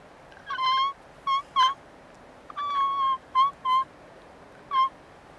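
A human voice imitates a squirrel with a series of short, squeaky, strained chirps, some clustered and some single, over quiet background hiss.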